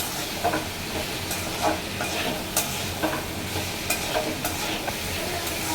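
Chickpeas being stir-fried in a pan for an Iftar dish sizzle loudly and continuously, with rhythmic scraping strokes of the spatula recurring roughly every second, close and with no talk.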